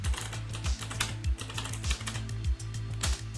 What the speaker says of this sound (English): we're just gonna go ahead and type in WMIC